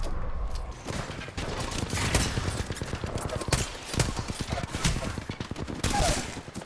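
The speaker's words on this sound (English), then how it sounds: "Another two shots with the repeater" Repeater rifle fire in the Apex Legends video game, with sharp gunshot bursts cracking repeatedly amid busy battle noise and some talking.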